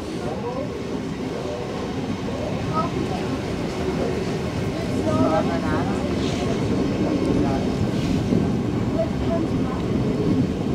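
Steam train on a special excursion run between Singen and Etzwilen, its rumble and track noise rolling steadily throughout, heard from on board with people talking over it.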